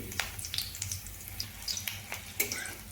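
A green chili and nigella seeds sizzle in hot oil in a pan, a close, soft frying crackle with scattered sharp pops over a steady hiss.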